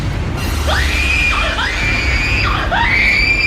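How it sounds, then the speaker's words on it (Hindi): A woman screams in several sharp, rising shrieks, loud and close, with a low rumbling background beneath. "रॉबिन इस झटके से उबरा ही नहीं था कि तभी नंदिनी चीखी"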